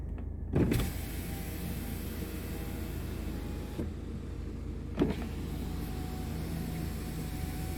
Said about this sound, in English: I didn't tell you guys about the automatic power windows